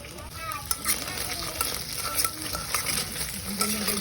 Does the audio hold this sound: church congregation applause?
no